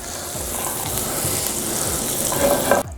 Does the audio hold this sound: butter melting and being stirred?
yes